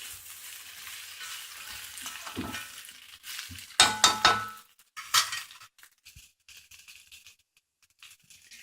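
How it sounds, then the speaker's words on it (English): Okra curry sizzles in a frying pan while it is stirred, with clinking utensil strikes against the pan in the middle. The sizzle then fades to quiet, scattered sounds. "Be giving it a stir so that it doesn't get burned on the one side"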